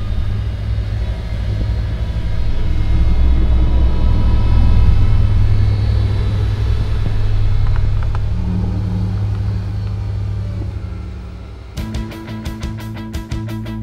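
Finnish-built Valtra T234 tractor, a new model designed for northern conditions, driving at speed on a plowed snow track, with a steady loud engine rumble and drone that swells, holds, then eases before a sharp mechanical change near the end.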